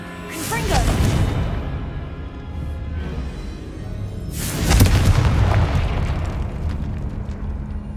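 Confringo fire spell explosions in Hogwarts Legacy, two loud booming bursts a few seconds apart, each with a sharp crackling onset and a rumbling tail, with a voice briefly audible between them.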